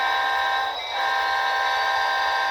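Empty CSX closed hopper cars on a storage track carry a steady, loud rail rumble with a sustained tonal whine and a brief dip in the middle as the train backs down.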